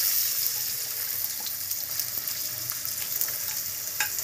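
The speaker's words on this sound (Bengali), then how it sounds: "তেল গরম দিয়ে দিয়েছি, বেরেস্তাটা করে নেবো।" Onions fry steadily in hot oil for beresta, a continuous close hiss of sizzling with small bubbling crackles running evenly throughout, loud and unbroken.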